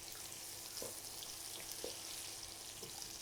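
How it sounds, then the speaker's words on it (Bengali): Soft, steady sizzle of potatoes frying with ginger garlic paste for aloo dum, a faint hiss throughout with a few light spoon taps and stirs. "আদা রসুনের পেস্টটাই আলুর সাথে একদম ভাজা ভাজা করে নিতে হবে"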